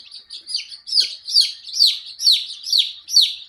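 Baby chicks chirping loudly in a rapid series of high, sharp peeps, about eight in quick steady succession, close by.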